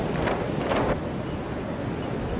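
Strong wind gusting on a coast near a lighthouse, a steady roaring rush buffeting the microphone with a couple of brief louder surges early on, no voices.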